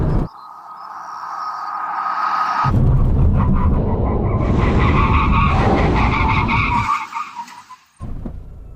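A sports car braking hard at the end of a drag race between a Nissan GT-R Nismo, Honda NSX and Porsche 911 Turbo S, with loud engine roar and tyre scrub building over several seconds, then dropping off abruptly.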